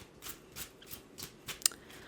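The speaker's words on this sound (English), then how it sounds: "Shuffling up the tarot for you guys." Tarot cards being shuffled by hand, a series of soft, crisp riffling bursts in a quiet room, about six short shuffles with a sharper snap near the end.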